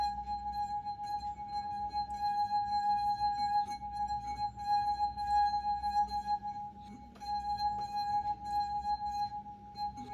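A steady, pure ringing tone from a wet wine glass rim, with more water in the glass, sustained and clear with faint overtones, holding for several seconds with a brief dip midway.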